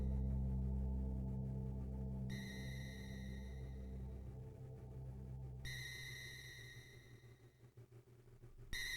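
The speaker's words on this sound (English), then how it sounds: "almost perfect recreation of the sound you hear on the title screen of the original Game Boy game" Metroid: Samus Returns game audio recreating the original Game Boy title screen music, a soft, steady electronic drone with sustained tones and high beeping layers that fade in and out, alone without talk.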